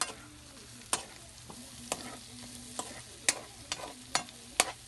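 Coconut milk poured into a pan of simmering squash and string beans, with sharp clinks and scrapes of stirring over a steady low sizzle, no talking.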